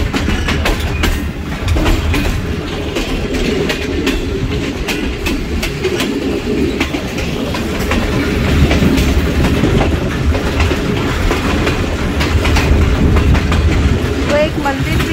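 Heard from inside the locomotive cab, the Rehman Baba Express rolls slowly through Taxila station in Pakistan with a loud, continuous engine rumble and rhythmic clickety-clack of wheels over rail joints, with voices in the background.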